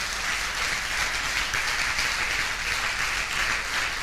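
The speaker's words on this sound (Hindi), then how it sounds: "इनको तो ताली बजाई दो भाई, इनने रखा था।" An audience at a motivational seminar claps for one of its members, with steady, dense applause that holds for the whole stretch with no voices over it.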